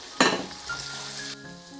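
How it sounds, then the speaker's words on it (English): Meatballs and pork belly dropped into stir-fry sauce in a hot pan for mala xiang guo: a sharp splash of sizzle at the start, then a steady crackling fry with light utensil clinks. "Add in meatball and pork belly."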